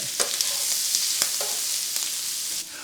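Blackened shrimp with Cajun spices sizzles steadily in a hot pan, with several sharp scraping and stirring clicks over a constant bright frying hiss.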